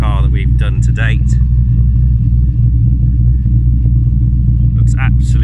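A Mazda RX7 fitted with an LS2 V8 idles with a deep, steady, lumpy rumble close by, while someone talks over the start and end of the engine sound.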